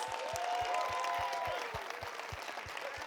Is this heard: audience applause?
yes